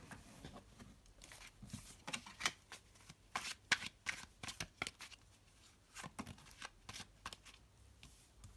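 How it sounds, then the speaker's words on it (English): Tarot cards being shuffled by hand in a quiet room, a steady run of close, crisp riffling bursts and soft card slaps with no talking. "I've already shuffled the cards and meditated. I'll do a little bit more of that on camera"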